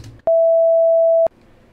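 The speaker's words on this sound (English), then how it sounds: "this is very similar to the frequencies used to generate the emergency alert tone" A steady electronic tone built from combined 530 and 660 Hz sine waves, similar to an emergency alert signal, plays for about one second with an abrupt start and stop and faint sound on either side.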